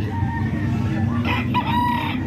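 A gamefowl rooster gives a short crow, close and loud, over a constant hum of other background noise.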